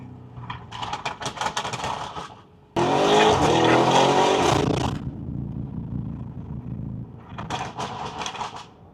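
A Lamborghini Urus widebody with downpipes: the exhaust roars loudly as the engine revs hard, with bursts of aggressive revving, a sustained snarling blast, then rumbling idle and more revs.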